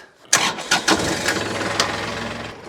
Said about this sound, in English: Now I'll start the tractor and lift it up